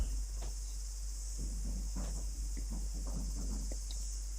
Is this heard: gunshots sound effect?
no